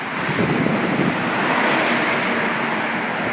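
Steady, loud rushing wind buffeting the microphone in Tokyo near Yoyogi Park, a continuous roar with no pauses, like gusts sweeping across open ground.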